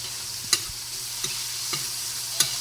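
Shrimp sizzling in a pan for odong noodle soup, with a steady frying hiss broken by a few sharp clinks as a utensil stirs them.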